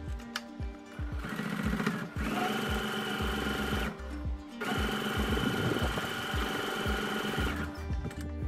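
A sewing machine runs top stitching on a blouse in two long steady bursts of rapid stitching, close and loud, with short pauses and handling noise between runs.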